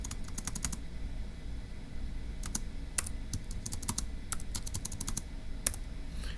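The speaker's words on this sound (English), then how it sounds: "Let's go ahead and type that up." A computer keyboard is typed on in quick bursts of sharp, close key clicks, with short pauses between the groups. A low steady background hum sits beneath the keystrokes.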